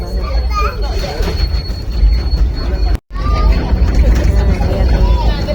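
A Loko Tour tourist train in Cepu, Blora, Central Java rolls slowly on rails with rumbling wheels and occasional squeals, while people chatter and talk nearby throughout.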